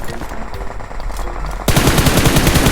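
Automatic gunfire in the PUBG Mobile video game, a sudden burst of rapid, loud rattling shots that breaks in after quieter in-game ambience and keeps going to the end.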